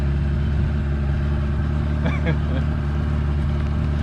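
A boat's outboard motor hums steadily and close while moving through a shallow creek, a constant low drone with a brief voice cutting in partway through.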